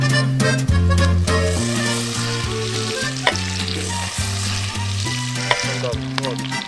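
Butter sizzles in a frying pan under loud music with a steady bass line, the frying a continuous hiss beneath it.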